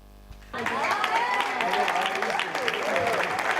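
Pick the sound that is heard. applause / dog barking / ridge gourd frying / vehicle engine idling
applause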